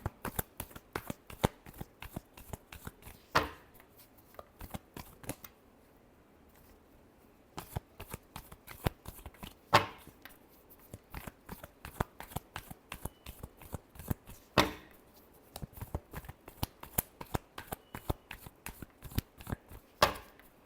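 Tarot cards shuffled by hand in quick rapid riffles and flicks, close and crisp, with one short pause mid-way and occasional louder slaps, no talking.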